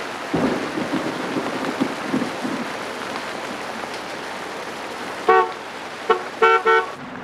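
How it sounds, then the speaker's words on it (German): Rain shower falling outside a church, a steady wash of rain with low rumbles early on, followed by several loud car horn toots near the end. "Das ist nur ein kleiner Schauer."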